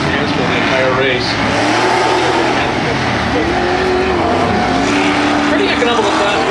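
An off-road race truck driven by Ben Pesa races at ERX Motorpark in a Formula 4x4 Midwest Off Road Racing round, its engine loud and close with rising and falling revs as it works the track, commentary talking over the roar.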